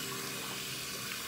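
Tap water runs steadily into a sink while soap is rinsed off hands, a continuous broadband splashing hiss heard up close and alone for about a second and a half.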